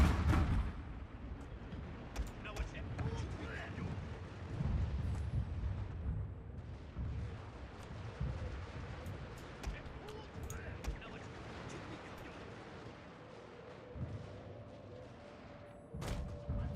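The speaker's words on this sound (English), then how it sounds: "And we are about to unleash the Gatlings." Gatling guns and artillery fire in a Fall of the Samurai battle, rendered as scattered, fairly faint booms and crackling shots over a low rumbling backdrop, with a few sharper reports near the end.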